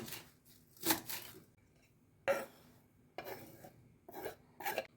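Knife strokes finely chop cucumber into a bowl, coming in short separate bursts of scraping, cutting sounds with quiet gaps between them, close and fairly soft.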